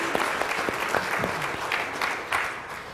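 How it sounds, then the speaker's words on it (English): A church congregation applauds the Vacation Bible School helpers during a Sunday service, a steady patter of many hands clapping for about three seconds, moderately loud with no talk over it. "Let's give a round of applause for those who are helping with VBS this week."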